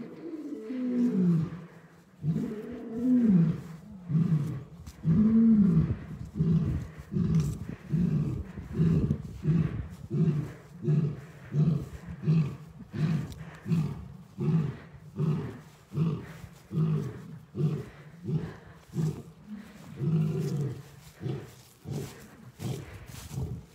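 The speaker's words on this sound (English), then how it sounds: "And that was young Gino the lion, who started caroling first" A young lion roars in a long rhythmic series at the front of its zoo habitat, deep grunting calls repeating steadily and loudly for over twenty seconds without talk.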